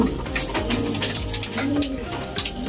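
Pigeons cooing low and steady inside a training cage, several birds overlapping in soft repeated rolling coos, close and fairly loud against a busy background.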